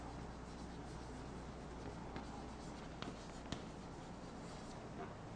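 Chalk or marker scratching across a board in a classroom, faint and continuous, with a few sharper taps amid steady room noise; no speech.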